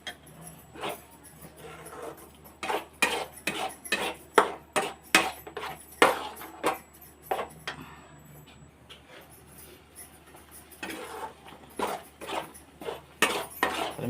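A spoon scrapes and knocks rhythmically in a pan as spinach and green chilli paste are stirred into fried masala, giving quick repeated metallic clatters, then a pause and more stirring.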